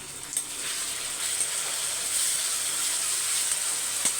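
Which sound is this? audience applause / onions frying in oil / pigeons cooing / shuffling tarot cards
onions frying in oil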